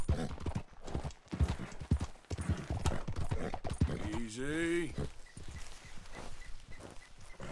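Rhythmic hoofbeats of a horse ridden in Red Dead Redemption 2, steady clip-clop under a voice talking, with a brief horse-like whinny or vocal cry partway through.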